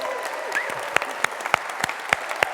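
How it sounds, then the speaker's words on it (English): Audience applause at a welcome-back gathering, a brief round of clapping with sharp distinct claps standing out over a softer crowd bed, a few faint voices mixed in. "give yourselves a round of applause"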